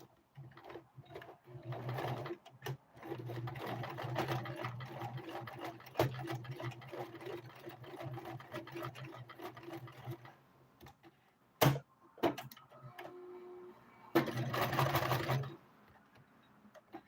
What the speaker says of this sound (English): Pull my sewing machine back here, and then I'm just gonna stitch it back and forth.